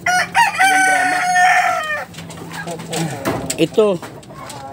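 A Shamo rooster crows nearby with a long drawn-out call, followed by clucking and other fowl noises from large black Shamo chickens while someone speaks briefly.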